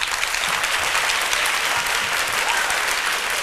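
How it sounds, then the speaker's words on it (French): Dense, continuous crowd applause at a holiday launch event, loud and steady throughout with no pause. "Il n'y a que des applaudissements qui vont guider mes pas."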